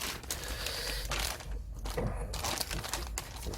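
A plastic bag crinkles softly and steadily while scale-model decals for a 1/12 Tamiya Honda RC211V MotoGP kit are packed into it, close up and quiet, with no speech.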